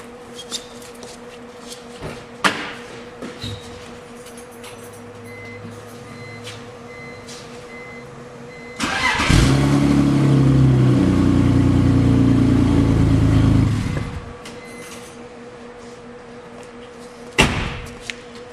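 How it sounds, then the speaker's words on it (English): A car with a weak battery cranks and starts, and the engine then runs loudly for about five seconds before cutting off. Scattered clicks and clunks come before and after. "I'm gonna try and start the car"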